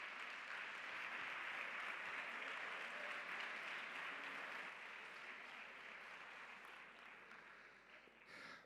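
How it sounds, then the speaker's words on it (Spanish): Faint, steady applause from an audience welcoming a speaker at a vocational training conference, a broad wash of many hands that thins out slightly toward the end. "Un aplauso para Alberto."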